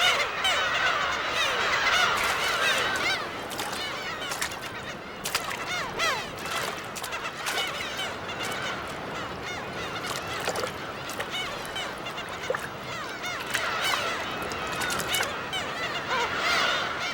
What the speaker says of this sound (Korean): 새끼들 울음소리까지 더해지면서 독도는 활기에 차 있다.